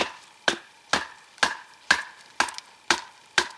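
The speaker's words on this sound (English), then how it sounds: "we're going to baton this and see how this knife holds up to batoning" A Becker BK 7 knife is batoned into a green pine log, producing seven sharp, evenly spaced wooden knocks, each with a ringing metallic edge and short decay, close and clear with no voices.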